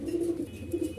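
A silver Sirazi pigeon gives a soft, low, rolling coo in two quick pulses, close by and alone.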